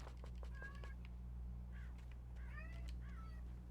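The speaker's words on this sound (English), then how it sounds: "I hear some meows." A cat meows several times at low volume, with a few short mews and then longer drawn-out cries over a steady low electrical hum.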